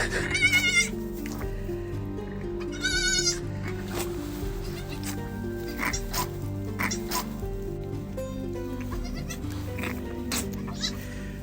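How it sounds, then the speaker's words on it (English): High, wavering bleats of newborn goats rise twice in quick bursts over a steady, busy background of rustling and low noise. "I just have baby goats."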